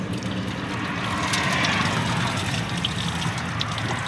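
Transmission fluid draining from an off-road vehicle's failed transmission, a continuous close splashing, trickling pour with a steady low rumble underneath and no pauses.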